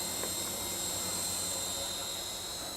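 A Walkera x100 RC helicopter flies close by, its rotors and motor giving a steady, loud, high whine with a constant broadband buzz throughout, no voices.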